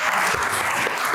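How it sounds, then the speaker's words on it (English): Short burst of dense audience applause at a service design talk, a steady wash of many hands clapping at close range with no gaps, filling the whole moment. "Yeah, give a round of applause."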